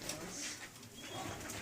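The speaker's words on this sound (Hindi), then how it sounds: "ये मेरे खाने में सबसे पुराना कबूतर है" A roughly 13-year-old pigeon, the oldest in a pigeon fancier's loft, coos softly and faintly in a quiet space, with light background noise.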